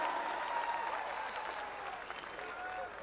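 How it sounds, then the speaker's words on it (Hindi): An audience at a Hindi comedy poetry gathering in Rajnandgaon claps in a sustained, moderately distant wave of applause with faint crowd murmur throughout. "ताली बजाओ"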